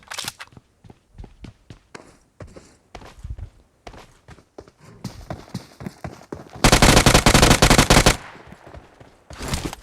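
Gunfire in the mobile battle royale game PUBG Mobile on the Sanhok map: scattered single shots and footsteps lead into a loud, rapid automatic burst lasting over a second, then a few more shots.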